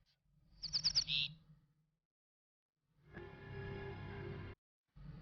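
Birds in the game Salammbo: Battle for Carthage give a short burst of rapid, bright chirps. A steady low drone of ambience follows after a pause, and no one speaks.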